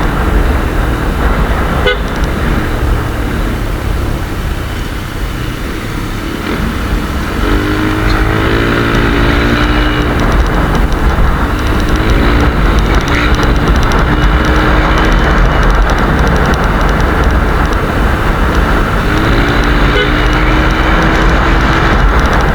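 A Yamaha Aerox 155 scooter fitted with an Etech Avocado pulley set runs at top speed, its engine holding a loud, steady drone for over twenty seconds with a few rising whines and wind roar.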